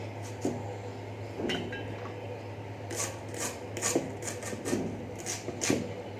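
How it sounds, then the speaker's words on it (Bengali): Onions being cut on a board with a knife, producing close, faint rhythmic chopping taps and scraping strokes over a low steady hum, with no speech. "পেঁয়াজ কাটছি"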